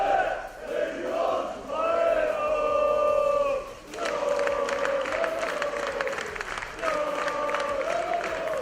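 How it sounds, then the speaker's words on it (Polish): Crowd at an MMA weigh-in ceremony before the Silesian MMA 18 gala in Chorzów applauds and cheers, with shouting voices over a steady wash of clapping that swells and eases across the stretch. "jeszcze wielkie brawa"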